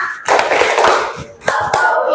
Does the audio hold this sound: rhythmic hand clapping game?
yes